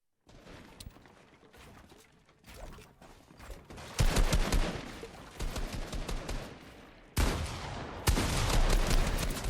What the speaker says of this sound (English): Shotgun shots coming in here.